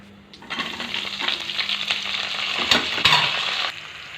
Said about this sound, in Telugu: తగినంత ఆయిల్ వేసేసుకొని మసాలా దినుసులన్నీ వేసేసుకోండి.